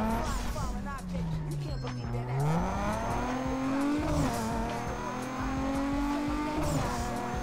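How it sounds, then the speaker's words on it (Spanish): A tuned street-racing car in Need for Speed Underground 2 revs and shifts, its engine pitch sliding down and climbing again, with turbo whoosh and tire noise layered over it. The sound is loud and continuous throughout. "Este turbo ya se sopla bien"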